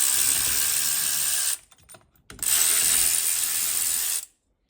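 Steering wheel puller being ratcheted tight on a 1992–1996 Ford F-150, two loud runs of rapid ratchet clicking split by a short pause, close-up and alone.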